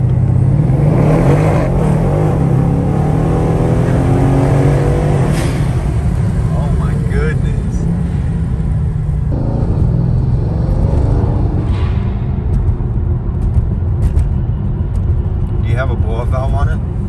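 A Mercedes E63 rumbles loudly from inside the car while driving, a deep continuous engine drone that swells and eases with throttle, with people talking over it.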